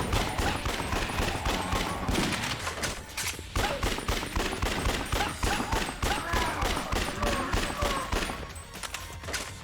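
Rifle gunfire fired at zombies in the video game Yakuza Dead Souls, a dense, continuous stream of rapid shots for nearly ten seconds, loud and relentless, with faint voices underneath.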